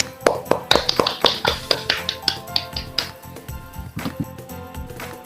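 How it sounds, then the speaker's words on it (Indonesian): A classroom of students applauds the first group after their peer-teaching presentation, a run of quick, sharp claps that starts dense and loud, then thins and fades over several seconds, with no talking. "Beri tepuk tangan semuanya."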